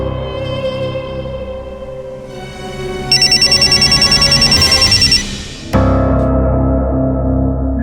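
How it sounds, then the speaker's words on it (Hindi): A telephone rings with a rapid trilling bell over steady background music, loud and close, then stops as the music carries on. "हाँ, फोन आया है।"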